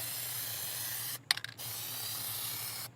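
Aerosol spray of Plasti Dip rubber coating onto car wheels, a steady close hiss that cuts out briefly for a second then resumes, stopping near the end.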